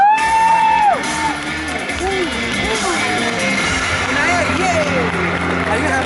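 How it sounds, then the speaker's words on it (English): A loud crowd at a superhero stage show whoops and yells, starting with a rising shout and continuing as a busy wash of cheering voices throughout. "Let's hear some applause for those incredible dancers."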